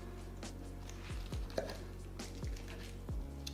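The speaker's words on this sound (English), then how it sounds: "Can you hear that crunch from the tortillas?" Someone eating chilaquiles verdes bites into crisp fried tortillas, giving several close, irregular crunches over a constant low background hum.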